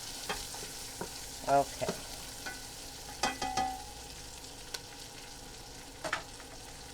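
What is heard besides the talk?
garlic sizzling and being stirred in a pan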